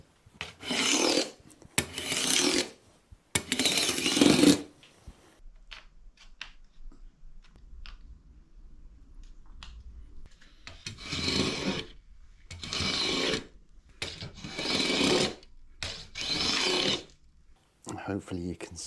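A sanding block rasps along a wooden bass fretboard to shape its radius, in several separate bursts of back-and-forth scraping with quiet pauses between them.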